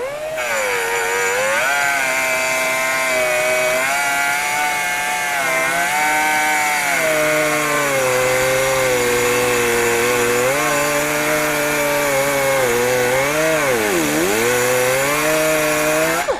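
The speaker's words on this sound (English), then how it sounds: "Let me get my grinder." A grinder resurfaces the brake rotor of a Yamaha Grizzly ATV, a loud, sustained high-pitched whine that rises and falls in pitch as the tool is pressed against the disc, running without a break.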